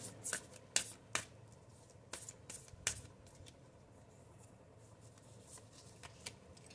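Tarot cards shuffled by hand in a quiet room, a few sharp riffling bursts near the start and then softer intermittent flicks, close and faint, with no talking.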